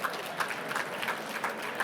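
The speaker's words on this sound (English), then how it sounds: "Great applause to you and our agents." Audience applause at a VivaTech 2025 technology conference session, a short steady burst of many hands clapping at moderate volume with crowd texture.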